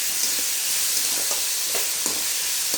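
Tomatoes sautéing in a pan while a prawn kulambu is cooked, giving a steady, close sizzle and frying hiss with faint stirring scrapes throughout.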